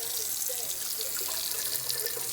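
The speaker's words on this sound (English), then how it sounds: "just a little shot of water in there" A small splash of water runs from a tap into a bowl holding two eggs in a kitchen, a steady gentle trickle for a couple of seconds with no talking.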